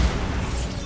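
A Bombarda spell explosion in the video game Hogwarts Legacy: a single short, heavy boom with deep low rumble and broadband burst, loud and close, fading quickly.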